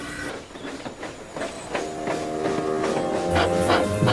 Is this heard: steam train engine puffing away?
yes